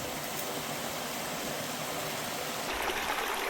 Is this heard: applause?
no